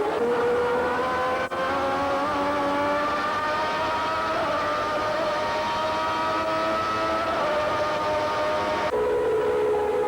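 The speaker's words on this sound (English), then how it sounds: "perhaps the race of the year, at Estoril, riding with Nigel Mansell in his Ferrari." Nigel Mansell's Ferrari Formula One car races at Estoril in 1989, heard onboard as a loud, continuous high-pitched engine wail climbing slowly in pitch, with a sharp shift in tone near the end.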